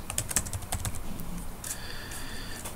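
Someone types on a computer keyboard while searching for a level in Happy Wheels, a quick burst of light, close key taps that fade after about a second, followed by a faint steady tone.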